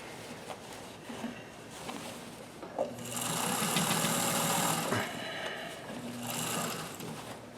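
A sewing machine runs in bursts while stitching inside the leg of a pair of jeans, a steady mechanical whir that swells loud for a couple of seconds, pauses, then starts again, close and alone.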